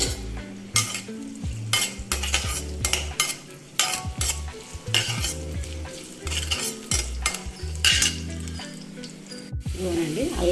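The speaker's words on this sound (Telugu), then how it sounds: "స్టవ్ అంటించుకొని పాన్ పెట్టుకొని ఆయిల్ వేసుకున్నానండి. ఈ ఆయిల్లో ముందుగా మనం అల్లం వేసుకుందాం." Ginger frying in hot oil in a pan on a stove for a Telugu ginger pulusu, steady sizzle under repeated scraping and clinking of a spoon against the pan, close up with faint background sounds.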